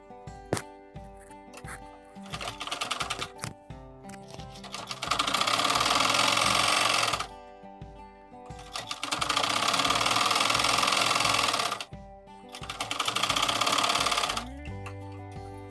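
A sewing machine stitches a strip for a puff sleeve on a blouse, running in loud, fast bursts of several seconds each, separated by short pauses with quiet clicks and handling of the fabric.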